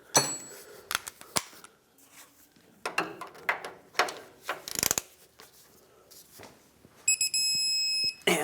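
Hand wrench tightening a bolt on the rack and pinion bracket of a 1996-2002 Toyota 4Runner, sharp ratcheting clicks in short bursts, close and fairly faint, ending in a brief metallic ring.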